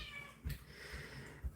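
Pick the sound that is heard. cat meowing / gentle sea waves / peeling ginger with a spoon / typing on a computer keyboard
cat meowing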